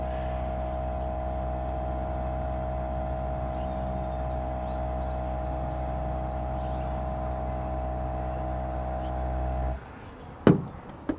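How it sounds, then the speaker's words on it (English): An air compressor on a WILL-BURT Night Scan Chief light tower, the kind used to pneumatically raise its mast, runs as a steady droning hum that cuts off abruptly near the end, followed by a couple of sharp clanks. "It comes with the air compressor, which you heard running, that allowed the mast to pneumatically extend up."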